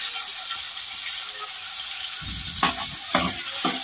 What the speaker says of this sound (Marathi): तेलामध्ये परतून घ्यायचं चांगलं